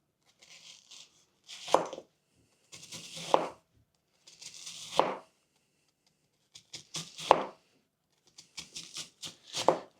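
A knife chops onions on a cutting board in short bursts of crisp, rapid strokes, each burst separated by brief pauses, close and clear with no talking.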